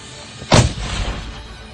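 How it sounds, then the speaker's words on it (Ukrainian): A single loud artillery gun blast booms sharply, followed by a rumbling decay over a steady background hiss. "Гармата! Постріл!"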